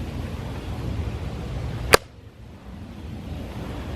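El Chete machete blade chopping into a piece of seasoned oak, a single sharp, loud impact standing alone against steady background noise, followed by near quiet.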